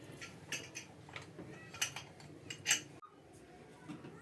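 A metal spoon stirs rice in a pot, scraping and clinking with a few sharp taps, close by and fairly quiet, followed by a soft low rumble.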